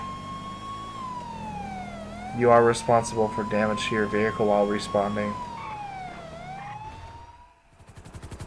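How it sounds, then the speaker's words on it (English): Police car siren wailing steadily on an emergency response, a long rising-and-falling tone with rapid yelp bursts in the middle, sounding loud and close while someone talks over it. "This is lights and sirens the whole time."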